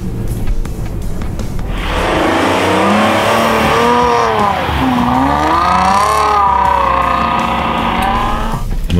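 A car crawls slowly over rough ground with a loud, steady engine drone whose pitch swoops up and down as it works over the bumps, close and continuous with no talk.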